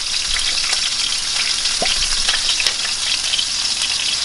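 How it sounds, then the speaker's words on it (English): Food sizzles steadily in a frying pan turned down to medium heat, with truffle as an ingredient, a continuous close crackling hiss with a few small pops and no talking. "Sizzle, sizzle, sizzle. Let it cook."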